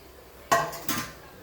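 A metal pot lid comes off a simmering pan of kappa thoran, cassava cooked with coconut, with two quick close clanks of metal against metal in a quiet kitchen.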